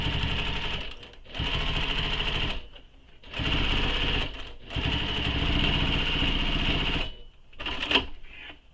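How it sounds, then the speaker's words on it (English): Sewing machine back stitching over earlier stitches, fast whirring runs of needle strokes in several bursts separated by short pauses, close and fairly loud, with no speech. "I'm back stitching right over top of the previous stitches that are there"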